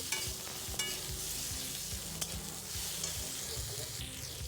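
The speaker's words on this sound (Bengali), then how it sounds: "তারপরে দিয়ে দিলাম কেটে রাখা আলু আর বেগুনটা এটা একটু লাল লাল করে ভেজে নেব" Cubed potato and eggplant frying in a wok over popped mustard seeds, a continuous close sizzle broken by frequent rhythmic stirring scrapes and a couple of sharp clicks.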